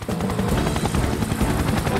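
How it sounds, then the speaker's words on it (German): A cartoon helicopter belonging to the fireman Tom in the animated series Fireman Sam, its loud, steady rotor chop filling the whole moment without any voices. "Mit Hilfe von Tom und seinem Hubschrauber"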